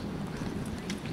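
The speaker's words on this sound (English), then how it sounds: "It's a little windy" Wind gusting across the open-air ancient Roman theater at Caesarea, Israel, a steady low rumble of buffeting air against the microphone with no talk.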